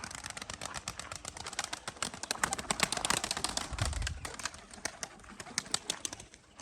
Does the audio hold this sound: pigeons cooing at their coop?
yes